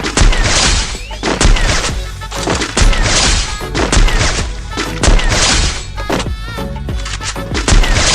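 Gunfire in the Free Fire video game, loud repeated shots and heavy impact cracks in quick succession, dense and close throughout with brief pauses between bursts.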